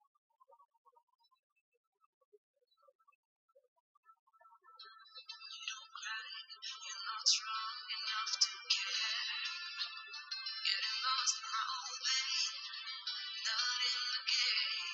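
Near silence at first, then tinny music plays faintly through small Portronics Harmonics Z9 earphones held to the microphone, thin and bright with no bass, continuing to the end.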